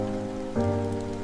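Steady rain pattering against the glass walls of an office, a continuous wash of drops with a low tonal hum underneath and a slight swell midway.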